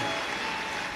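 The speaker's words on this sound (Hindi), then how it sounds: "एक बार जोरदार ताली बजाकर इनके लिए साधुवाद है।" An audience claps loudly at a Shiv Mahapuran religious discourse in Durg: a dense, steady burst of many hands applauding, filling the short moment at even volume.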